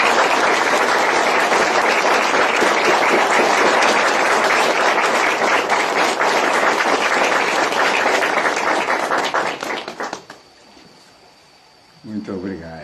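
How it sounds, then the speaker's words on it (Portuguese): A gathering at a Santo Daime Holy Week service in Brazil breaks into loud, dense applause that fills the room for about ten seconds, then fades out abruptly, leaving near quiet before a voice begins to speak. "Uma salva de palmas para vocês."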